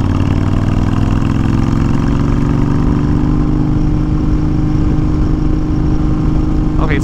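2020 Honda Fury motorcycle engine at a steady cruise in third gear, a continuous loud low rumble with even harmonic drone, close and unbroken throughout.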